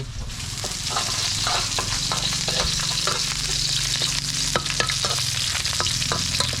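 Pork fries hard in a wok with plenty of garlic and pepper, giving a loud continuous sizzle broken by frequent scraping, clattering strokes of a spatula.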